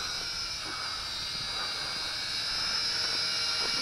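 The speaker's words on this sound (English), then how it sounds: "this is one of my favorite sport flyers, the X400" An MJX X400 sport drone flies nearby with a steady high-pitched whine from its motors, holding constant and growing slightly louder toward the end, with no talking.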